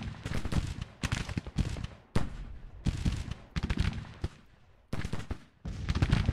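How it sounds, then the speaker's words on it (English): Musket volleys in a Civil War strategy video game: repeated bursts of ragged gunfire crackle in uneven waves, one volley after another with short gaps between, loud and sustained. "He's already fired six volleys to the 1st Missouri's four."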